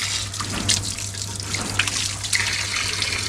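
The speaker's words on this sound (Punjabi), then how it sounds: "ਹੁਣ ਜਾ ਕੇ ਠੰਡਾ ਪਾਣੀ ਆਇਆ ਜੀ" Cold tap water runs and trickles at a household tap, a steady close splashing stream with small drips and spatters over a low hum.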